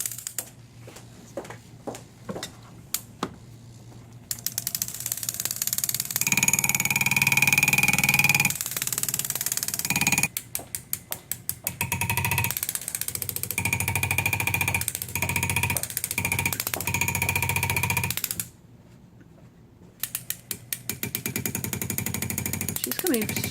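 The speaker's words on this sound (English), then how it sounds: "You can see how important a flexible shaft is in every operation." Flexible shaft rotary tool used for jewelry stone setting, working on a bezel with a mandrel, giving loud close rapid hammering buzz in long runs broken by short pauses and tapping.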